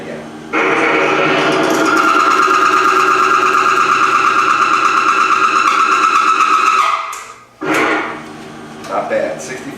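A Falex lubricant test machine motor runs under load with a steady, loud mechanical whine and hum for about seven seconds, then cuts out and restarts briefly in uneven bursts toward the end.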